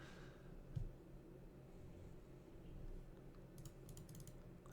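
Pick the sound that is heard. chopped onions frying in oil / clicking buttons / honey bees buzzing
clicking buttons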